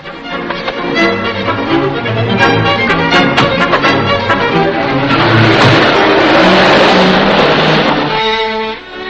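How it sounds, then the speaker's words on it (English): A 1941-era car drives away in a serial chase scene. Its engine revs loudly and steadily under dramatic orchestral music, building to a sustained roar before the music takes over. "With him driving my car, sure, we haven't got a chance."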